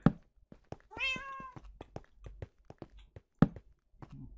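A cat in the Minecraft video game gives one clear, close meow amid a series of sharp footstep-like taps and thunks.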